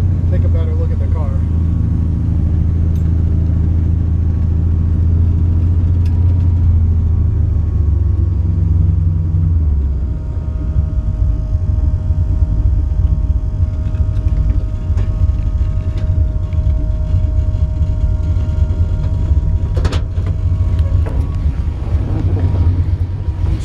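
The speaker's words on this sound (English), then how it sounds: "So yeah, nice aggressive sounding exhaust." A 1969 Chevrolet Camaro's engine gives a deep, steady rumble with a throaty, aggressive exhaust note, loud and close, holding a low drone throughout.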